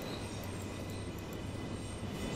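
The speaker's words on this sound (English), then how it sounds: "Yeah, train rides around the city." A simulated train in the OMSI 2 bus game rides its track through a city line, a steady rolling rumble with a faint high whine and no pauses, continuous and unvoiced.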